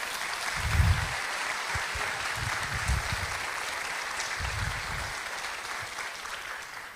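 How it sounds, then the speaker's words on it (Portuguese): A church congregation applauding together, a steady, moderately distant wash of clapping that holds evenly throughout with a few low thumps underneath. "Podem aplaudir o Senhor hoje à noite?"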